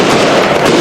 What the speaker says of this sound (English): Fireworks, yeah. You can see that going up behind the main stand.